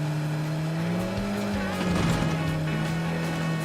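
A car in a video game drives with a steady engine drone and a rising and falling tone, with a brief tire-squeal texture in the middle.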